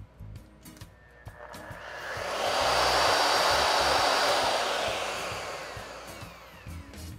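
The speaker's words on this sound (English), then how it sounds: "the router we'll be using today, the 2-horsepower Peak Ryobi plunge router" A Ryobi 2-horsepower plunge router with slow start spins up into a loud steady whine, holds for a few seconds, then winds down, accompanied by soft knocks at the start and end.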